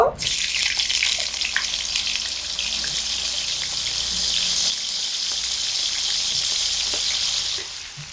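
Flat beans sizzle in hot oil in a home kitchen, a steady, bright crackling hiss that starts sharply and runs continuously before easing off near the end.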